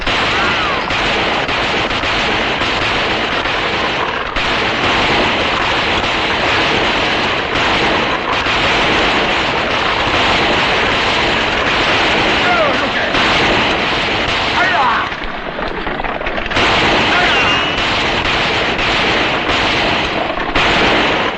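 Rifles fire in a western gunfight, a dense and loud run of overlapping shots and ricochets that barely lets up, with voices shouting underneath and a short lull near the end.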